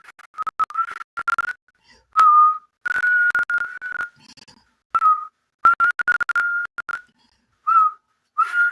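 A person whistles a song melody in a clear, bright tone. The phrases come in short bursts with brief gaps between them, close and alone, with no talk.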